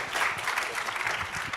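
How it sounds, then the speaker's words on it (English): A conference audience applauds, a continuous wash of many hands clapping, moderately loud and even for the whole stretch, with no voices over it. "A big round of applause for Tribe"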